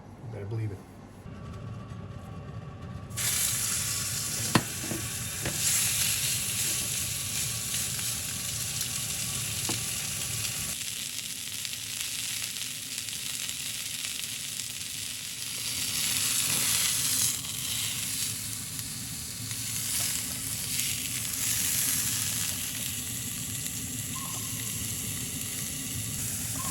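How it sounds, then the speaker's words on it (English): Venison searing in an iron skillet, a steady loud sizzle and hiss that holds for the whole stretch, with a brief clink of utensil against the pan and a few shifts in intensity as the meat is turned. "using an iron skillet, we're going to sear the venison for roughly 2 minutes on all sides"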